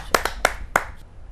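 A few separate handclaps at a poetry recital gathering: four or five sharp, close claps spaced irregularly, then quiet, sounding like a small group or single person rather than a full crowd.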